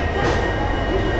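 Express train from Gandhidham pulling into KSR Bengaluru railway station, a steady loud rumble of wheels and carriages filling the moment with no voices.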